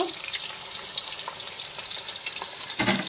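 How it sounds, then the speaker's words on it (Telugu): Onions dropped into hot oil in a home kitchen sizzle and crackle steadily up close, with a brief louder burst of stirring or splashing near the end. "నూనె పోతున్నామండి చూడండి ఉల్లిపాయలు వేస్తున్నాం ఆయిల్ ఫ్రై చేసుకొని"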